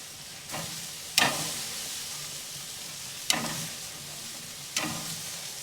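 Burger buns toast in butter in a hot pan with a continuous close sizzle, broken by three or four sharp clicks or taps from handling, with no one speaking.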